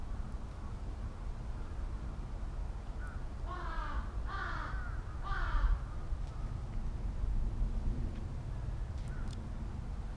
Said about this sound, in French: Je sais pas si vous voyez dans les airs, il y a quand même masse corbeau.